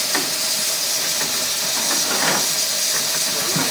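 Loud, continuous hissing of steam venting from BR&W No. 60 steam locomotive during preparation, close by, with a faint rumbling underneath.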